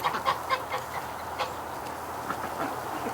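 Geese honking in a winter farmyard, a scattered series of nasal calls at moderate distance, some overlapping, over a quiet background.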